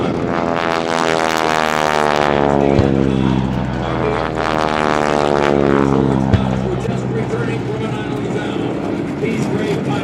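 Propeller warplanes fly past at a Tora Tora Tora air show, their loud droning engines sweeping down and then rising in pitch as they pass, under an announcer talking over a loudspeaker.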